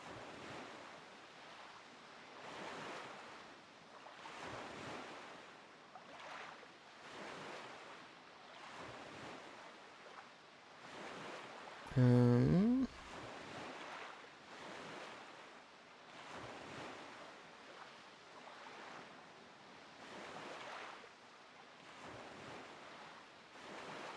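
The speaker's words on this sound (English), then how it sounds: "Just listen to the sound of the waves." Ocean surf rolls in slow, even swells heard from a boat at sea in Zelda: The Wind Waker HD, steady and moderately loud with wind, interrupted by a brief tonal game chime midway.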